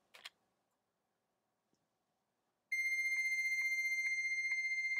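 A modem on a simulated phone line answers a call, starting a steady, loud, pulsing tone after a couple of seconds of near silence broken by a brief click at the start.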